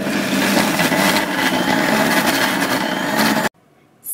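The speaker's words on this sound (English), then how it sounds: "Grind everything first into a coarse paste." A blender grinds nutritional yeast and raisins into a coarse paste, a loud, steady whirring rumble that cuts off abruptly, followed by a short quieter rustle.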